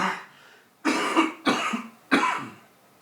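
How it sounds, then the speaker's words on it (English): A person ill with COVID coughs three times in quick, close succession, each cough a harsh, chesty burst heard near and alone after a short quiet lead-in. "Sorry if you can hear me coughing"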